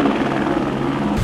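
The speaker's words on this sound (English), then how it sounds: "That's the helicopter that's gonna pick up that lady that we were listening to last night." A rescue helicopter flies overhead with a loud, steady rotor and engine drone that holds constant throughout, with no talking.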